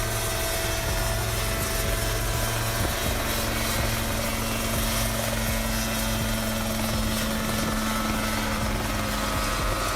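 A Mosquito XE ultralight helicopter flies close by, its rotor producing a steady loud thrum with a strong low hum and constant engine drone throughout.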